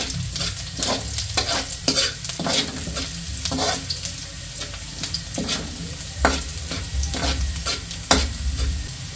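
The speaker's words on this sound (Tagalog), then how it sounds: "Nagisa na po ng bawang at sibuyas." Garlic and onion sauté in a pan, sizzling steadily while a utensil stirs and scrapes through them in repeated sharp strokes, close and loud with no talking.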